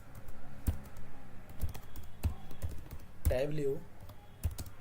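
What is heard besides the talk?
typing on a computer keyboard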